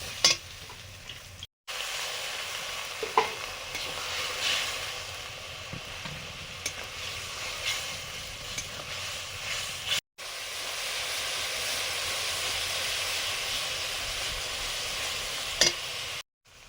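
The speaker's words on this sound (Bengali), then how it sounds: "একটু জল দিয়ে মশলাটা ভালো করে কষে নেব।" Spice paste of Kashmiri chili powder and water sizzles and hisses steadily as it is sautéed and stirred in a pan, with a continuous close frying sound and brief breaks.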